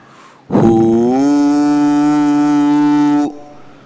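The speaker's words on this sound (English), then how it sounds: "Start the intense chanting of Hunkara, H-O-O, sound." A single deep, sustained "hoo" chant held for nearly three seconds, steady and resonant, starting and stopping abruptly.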